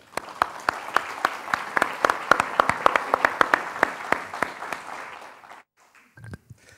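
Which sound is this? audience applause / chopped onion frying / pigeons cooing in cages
audience applause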